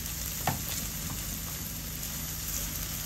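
Vegetable bhaji sizzles steadily in a pan, a constant crackling fry with a faint clink early on.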